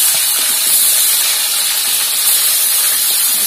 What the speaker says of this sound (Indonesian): Kemudian kita goreng kentang. Nah ini harus digoreng sampai matang ya.